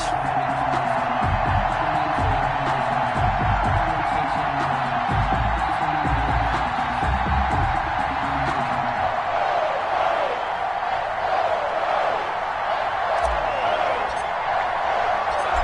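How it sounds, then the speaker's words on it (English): A stadium crowd before a Dallas Cowboys vs New York Giants NFL game gives off a dense, steady roar of cheering and murmur, continuous throughout, with a broadcaster talking over it. "This crowd is ready as their guys get set to match up between the Dallas Cowboys and the New York Giants."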